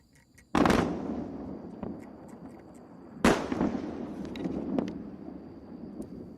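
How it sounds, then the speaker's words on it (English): A methane-fuelled rocket ship explodes in two loud, sharp blasts a few seconds apart, each followed by a long rumbling roar that slowly fades, with no voices. "What an explosion."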